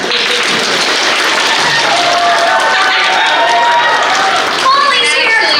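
Convention crowd at a voice actor Q&A panel clapping and cheering, a sustained wash of applause with voices and whoops rising through it and swelling slightly near the end.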